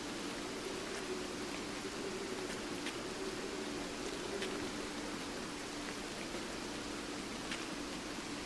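Heavy rain pours steadily in a multiplayer loot-run game, a dense, loud hiss that carries on unbroken, with a faint low hum underneath and a few soft ticks.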